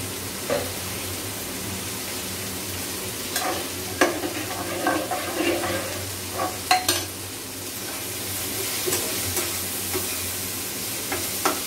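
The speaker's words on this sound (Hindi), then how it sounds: "ये थोड़ा सा फ्राई हो रहा है, येलो फ्राई।" Soaked moong dal frying in a pan with salt, a soft steady sizzle under occasional scrapes and stirring knocks, close by and fairly quiet, no voices.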